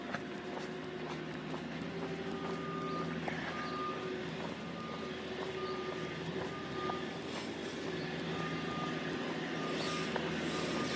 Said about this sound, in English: now we have a backhoe digging just up the road from me here